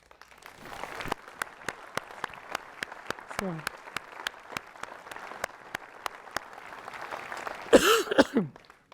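Scattered hand claps from a small audience at a municipal New Year's address in Ouistreham, France, sparse and irregular rather than a full ovation, with a voice and some noise near the end.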